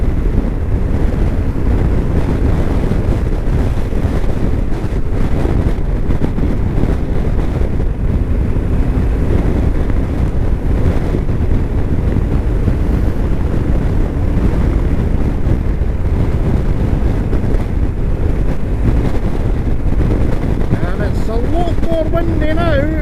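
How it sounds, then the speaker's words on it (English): Strong wind buffets the microphone during a ride through a Perthshire valley, a loud, constant roaring rumble that fills the whole stretch, with a voice faintly audible beneath it. "the wind has certainly picked up"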